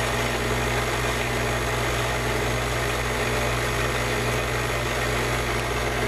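Electric mixer whipping heavy whipping cream with powdered sugar on high speed, a steady loud motor whir with constant hum throughout, no talking.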